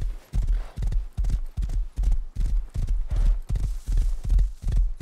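A horse gallops in the video game Rust, its hoofbeats close and loud in a steady, driving rhythm of about two strides per second that carries on throughout with no other sound.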